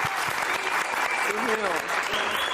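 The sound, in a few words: TV studio audience applauding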